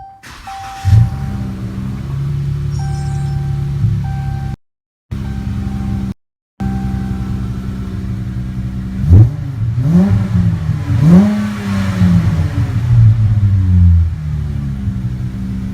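A 2015 or later Dodge Challenger engine with a new exhaust cranks and catches, settles into a deep idle, then revs up several times with throaty rising roars close by.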